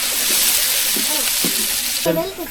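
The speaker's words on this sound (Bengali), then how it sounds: "পেঁয়াজ হালকা বাদাম হয়ে গেছে" Onions fry in a pan with a loud, steady, close hiss and crackle, while a voice speaks briefly over it near the end.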